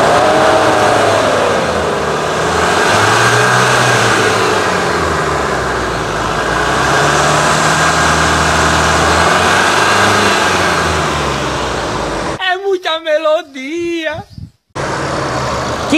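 A Chevrolet S10 pickup engine idles steadily, then is revved so the pitch rises and falls, before loud music with singing cuts in near the end.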